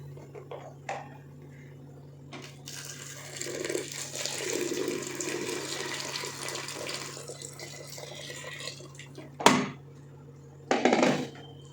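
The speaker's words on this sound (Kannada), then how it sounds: "ಈಗ ನಾನು ಮೂರು ಗ್ಲಾಸ್ ಅವಲಕ್ಕಿಗೆ ಒಂದು ಎಂಟು ಗ್ಲಾಸ್ ಬಿಸಿ ನೀರು ಹಾಕ್ತಾ ಇದ್ದೀನಿ" Hot water poured from a vessel onto flattened rice (avalakki) in a pot for avalakki bisibele bath, a steady splashing pour of several seconds, then two short louder clatters near the end; no talking.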